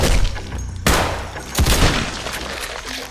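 Shotgun blasts from a Model 870 in the survival game Decaying Winter, with two sharp, loud reports about three quarters of a second apart. Each one is followed by a noisy rumbling tail of in-game action.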